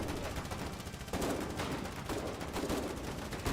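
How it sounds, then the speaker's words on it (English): Sustained gunfire in the video game Foxhole, a dense, continuous rattle of rapid shots with heavier bursts layered in, loud and steady throughout with no talking. "what the hell are they shooting us with?"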